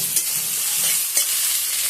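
Boneless meat frying in hot oil in a spicy preparation, a loud continuous sizzle close up with a couple of quick stirring scrapes over it.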